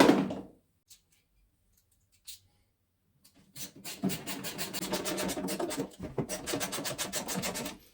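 A key turns out screws on a Parkside PMH 2400 garden shredder, a dry rasping, scraping grind in quick repeated strokes close by after a few quiet seconds, with no voices.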